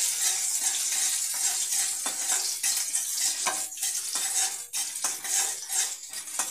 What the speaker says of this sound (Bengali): কড়াই আমি সরষের তেল দিয়েছি, তেলটা আমার গরম হয়ে গিয়েছে। এর মধ্যে আমি পেঁয়াজগুলো দিয়ে দিলাম।